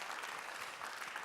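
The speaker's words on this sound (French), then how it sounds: "Faut encore les applaudir, hein." A conference audience of mayors and elected officials applauds steadily, a brief, soft wash of continuous clapping with no voices over it.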